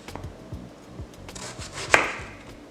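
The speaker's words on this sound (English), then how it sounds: "We're going to just cut these here." A knife cuts firm green tomatoes into half-inch slices on a board, giving a series of soft, close thuds and chops in a loose rhythm, one sharper knock near the end, with no talk.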